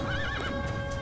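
A horse in the Assassin's Creed video game, in the poor district of Damascus, gives a loud, close whinny with a rising and falling pitch over a steady game background, with no talking.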